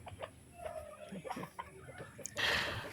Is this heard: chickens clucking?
yes